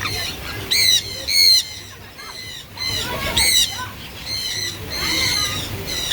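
Birds at a bird sanctuary in Costa Maya, Mexico, give loud, harsh squawks in repeated bursts, close by with rustling in between.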